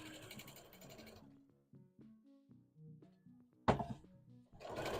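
A sewing machine stitches a line in short whirring bursts at the start, briefly midway and again at the end, with quiet tonal music filling the gaps.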